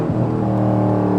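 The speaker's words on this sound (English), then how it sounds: "I love the downshifts, man." A 100,000-mile Chevrolet Camaro SS V8 downshifting, its engine note dropping in a steady, close, loud rumble with layered harmonic drone and no talk over it.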